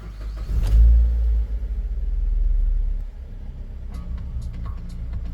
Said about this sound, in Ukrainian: Завожу двигун.